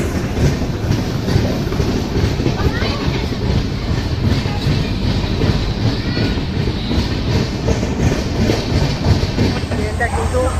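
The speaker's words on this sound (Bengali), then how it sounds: "সাঁতরাগাছি থেকেও ট্রেন ছেড়ে দিল" The 12857 Tamralipta Express AC train runs from Howrah toward Digha. Loud, continuous rumble with steady clickety-clack of wheels on the rails, heard from inside the carriage.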